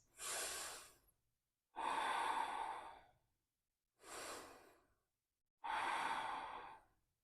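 Four long, slow breaths during a yoga class for core stability, each a loud, close airy rush of about a second separated by brief silences.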